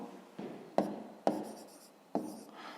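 Chalk or pen writes a math expression by hand: four distinct stroke bursts with scratchy attacks, close and fairly quiet, with no talking.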